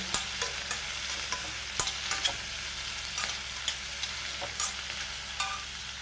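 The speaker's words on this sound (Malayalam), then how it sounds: "അപ്പോൾ ഇത് ചെറുതായിട്ടൊന്ന് വഴറ്റിയെടുക്കാം" Carrot and onion sautéing in a pan for bread upma, a steady close sizzle punctuated by repeated sharp scrapes and taps of a spoon stirring against the pan.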